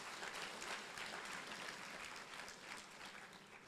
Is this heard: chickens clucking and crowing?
no